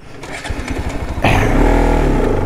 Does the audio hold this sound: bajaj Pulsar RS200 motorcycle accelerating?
yes